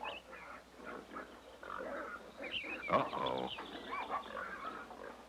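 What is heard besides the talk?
pigs grunting in a garden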